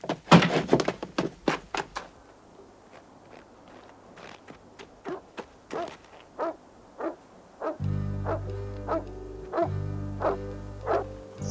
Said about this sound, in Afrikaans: Dis Josef se blaf daai